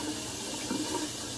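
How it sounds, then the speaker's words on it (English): Warm tap water runs steadily into a bathroom sink, a constant close hiss and splash with no voices over it. "get some warm water in here real quick first"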